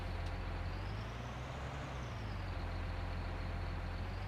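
A truck in Farming Simulator 19 pulls in with a steady low engine drone and faint hiss, idling and rolling at a constant moderate level, no voices.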